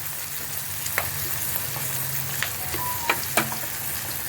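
Poppy seed paste with turmeric, salt and green chillies frying in oil for cauliflower posto, a continuous crackling sizzle with scattered spatula clinks and scrapes.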